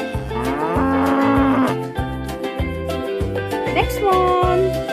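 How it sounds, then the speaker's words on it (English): A grazing cow moos in loud, drawn-out bellows that rise and fall. The calls sit over a steady background music bed with no talk. "It's a cow. Can you see the cow?"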